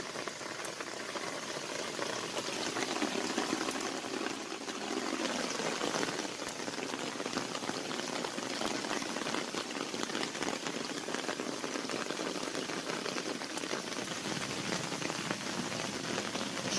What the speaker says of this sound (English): the water all just kind of merges together, makes its way around that corner, and comes out through here